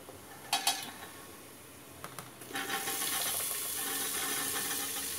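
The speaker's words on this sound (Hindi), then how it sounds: "अब इसमें हम घिया डाल के आधा एक मिनट तक भून लेंगे" Bottle gourd (ghiya) stir-frying in a pan, a soft steady sizzle with a few faint metallic clinks and scrapes of a spoon against the pan.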